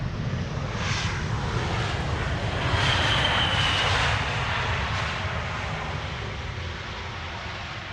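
A KLM airliner arriving at Amsterdam Schiphol Airport roars overhead as a steady, broad jet rumble that holds loud for the whole stretch and eases slightly toward the end.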